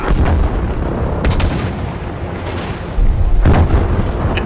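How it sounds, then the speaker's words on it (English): A called-in rocket strike in Battlefield, with heavy booming explosions that hit loud and close in two rounds, one near the start and another near the end, over a low rumbling background. "I called in a rocket just to call in a rocket."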